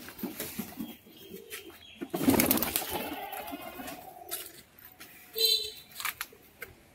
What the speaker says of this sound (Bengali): ওখানে পাশের বাড়ির ছাদে বুনো পায়রা রয়েছে, দেখুন বন্ধুরা, বুনোগুলো ঘোরাঘুরি করছে পাশের বাড়ির ছাদে